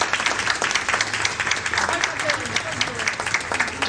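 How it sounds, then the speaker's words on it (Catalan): A live theatre audience at a Catalan children's stage show claps loudly and steadily, with voices and cheers mixed into the applause throughout. "això es mereix un fort aplaudiment per aquest Gandulli"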